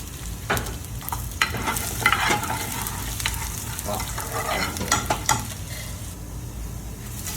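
Onions frying in a pan sizzle steadily while a utensil stirs and scrapes with irregular clatter, close and moderately loud, with no talking.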